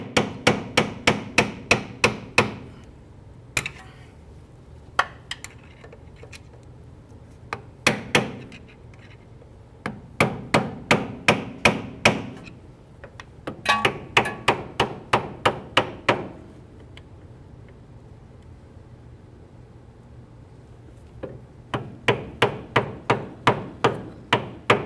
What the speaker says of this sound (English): This does have a locking clip that you're going to have to peen over the two ears.